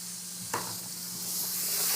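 Tomato paste sizzles steadily in a hot pan while being stirred, a close, continuous hiss with a brief scrape and clatter early on and the frying swelling slightly louder toward the end.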